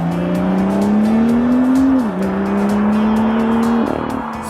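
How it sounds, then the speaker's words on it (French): A 3-litre, 370 hp turbocharged sports car engine pulls hard and close, its droning exhaust rising in pitch, dipping briefly at a gear change, then climbing again, with a thin turbo whistle over the rasp. "On ne se lasse d'ailleurs pas de l'écouter travailler entre le sifflement de la turbocompression sous le capot"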